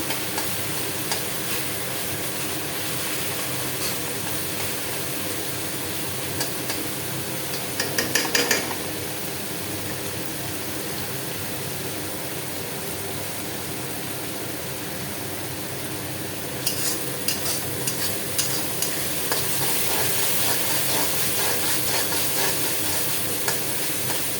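Spice masala sautéing in a pan for fish curry, a steady close sizzle with scraping stirs, a brief louder burst of stirring partway through and brighter frying hiss toward the end.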